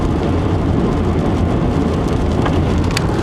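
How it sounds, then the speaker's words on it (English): Rain striking a car moving fast on the highway, a dense continuous hiss of drops over road and engine rumble, steady and loud, with a few sharper taps near the end and no speech. "I'm also doing like 73, so there's raindrops hitting pretty fast too"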